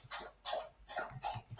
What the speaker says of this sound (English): it's my dog who's drinking here just next to me